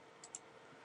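Two quick, faint computer mouse clicks in quiet surroundings, crisp and close together, then near silence.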